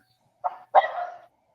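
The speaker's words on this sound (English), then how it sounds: "Sorry about the dogs." Dogs let out two short barks in quick succession, faint and somewhat distant, against an otherwise silent background.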